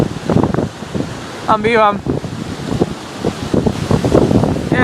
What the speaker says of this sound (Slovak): ako tu fučí vietor, mám také malé tornádo.